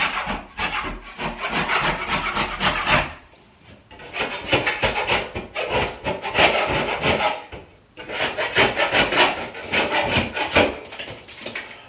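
Popcorn ceiling being scraped off drywall, with repeated rough rasping strokes in three long bursts separated by brief pauses, loud and close.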